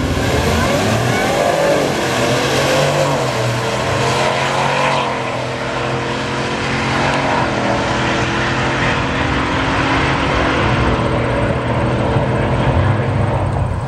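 A Ford F-150 FX4 pickup truck accelerates hard down the drag strip at St Thomas Raceway Park, its engine a sustained loud roar that climbs and carries steadily throughout the run.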